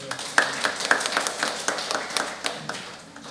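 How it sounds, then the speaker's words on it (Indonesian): A church congregation claps in an even, rhythmic beat, the sharp hand claps close and moderately loud and slowly fading toward the end. "tepuk tangan Bapak Ibu"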